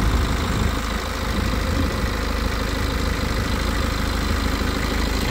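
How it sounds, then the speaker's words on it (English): A BMW 120d M Sport diesel engine idling at close range, a steady, even low hum and rattle with no revving or change in pitch throughout. "That's what the engine sounds like."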